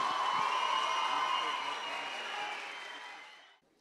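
A crowd applauds at a high-school speech competition final as a student is welcomed onto the stage; steady clapping that holds for a few seconds, then fades and stops abruptly.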